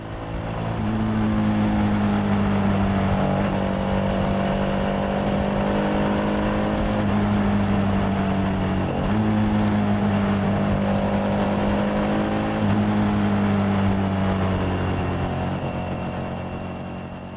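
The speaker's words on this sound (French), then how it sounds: "Les petits moteurs, mono, twin ou 4 pattes, ont la particularité de bien sonner dans les hauts régimes" A small-displacement motorcycle engine revs at high rpm, holding a strong steady tone with a brief dip midway and again later before climbing back, loud and close with no talk.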